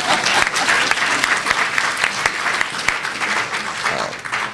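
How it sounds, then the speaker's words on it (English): Audience applause at a political conference, a dense, even wash of many hands clapping throughout, moderately loud and sustained, with a faint murmur of crowd beneath. "I think she'd get a round of applause for that again."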